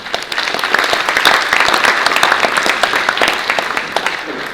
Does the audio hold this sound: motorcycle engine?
no